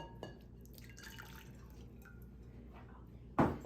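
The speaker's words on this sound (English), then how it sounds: "take my ladle and a bowl and pour this broth in." Beef stew broth ladled into a bowl: faint drips and trickles of liquid throughout, ending in a short, louder splash as the ladle empties.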